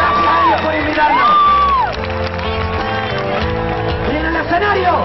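Concert crowd at a live rock show in an auditorium cheering and applauding loudly and continuously, with whoops and shouts rising over dense applause while someone sings or talks over a sound system.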